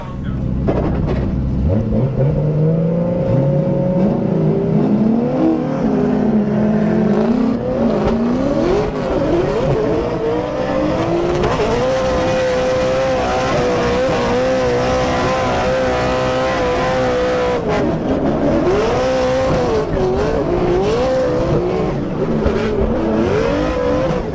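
A drift car runs a competition lap at Formula Drift Orlando, its engine loud and continuous with rising and falling revs and wavering pitch as it swings through the course, close-miked for the whole lap.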